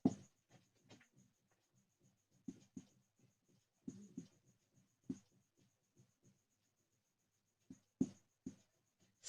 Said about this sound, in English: I'll write here.